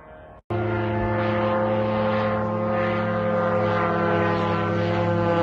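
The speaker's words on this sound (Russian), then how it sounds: "Беспилотник на Москву." Drones (UAVs) fly low over Bronnitsy toward Moscow at 8 a.m. A loud, steady propeller drone with a strong harmonic tone runs unbroken after a brief quieter moment at the start, with no talk.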